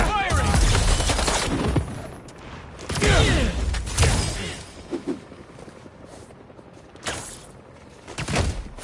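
Enemies in the Spider-Man 2 video game open fire in loud, rapid bursts of gunshots, separated by short pauses and thuds, with a voice speaking briefly between volleys.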